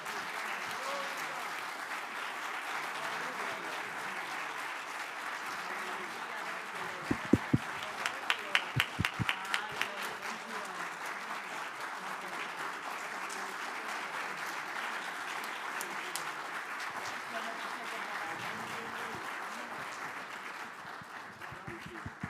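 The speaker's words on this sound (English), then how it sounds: "Can we give them a round of applause?" Sustained audience applause after a choir performance, a steady dense wash of many hands clapping throughout, with a few louder close claps standing out midway.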